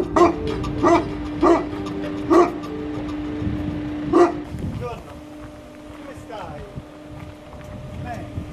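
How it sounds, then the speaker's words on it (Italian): A threatening dog barks five times in a loud, spaced series close by, then falls quiet while people talk over wind and outdoor noise. "c'è un cane minaccioso che ci accorge."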